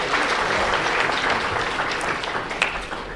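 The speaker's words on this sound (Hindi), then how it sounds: "इनके लिए भी जोरदार तालियां।" Loud, dense applause from a large audience at an educational conference's Bait Baazi poetry event, a continuous roar of many hands clapping without a break.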